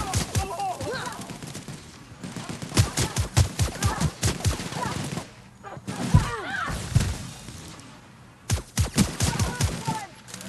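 Rapid bursts of gunfire from a weapon in the video game The Outer Worlds, loud repeated shots in several clusters with brief pauses, mixed with game effects and someone talking.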